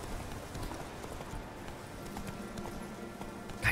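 A horse in The Witcher 3 video game gallops with a steady clip-clop of hooves under a continuous dense background of game sound, moderately loud, with no clear talking.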